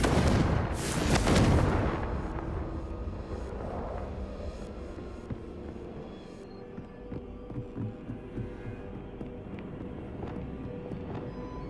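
A Confringo spell explosion in Hogwarts Legacy: a sharp, loud blast near the start that bursts and rumbles, then decays over several seconds into lower game ambience with faint clicks and thumps.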